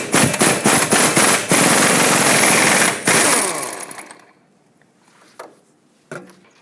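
An impact wrench with a 21mm socket rattles a ball joint nut loose on a 2009-2014 Ford F-150, a loud, close burst of rapid hammering lasting about four seconds, followed by a few quieter clanks.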